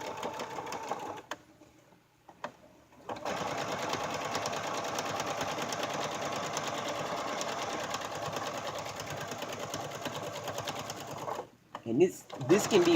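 A sewing machine runs in long continuous bursts while stitching through padded bag fabric near the edge, pausing briefly early on and stopping near the end, fairly quiet.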